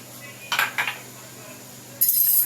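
Taro and mutton being roasted in a cooking pot: two brief metallic clinks of a utensil against the pot, then a steady close sizzle for the last half second, with no talk.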